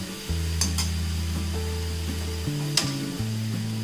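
Banana stem poriyal with coconut stir-fried in oil in a pan, giving a steady soft sizzle with a few scraping stirs of a spoon, close and fairly quiet, with no talk.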